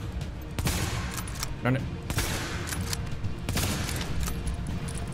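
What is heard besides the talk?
gunfire in the video game The Division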